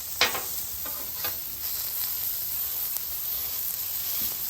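Meatballs smashed flat on a hot griddle give a steady, close sizzle, with a few short bursts of pressing and scraping near the start.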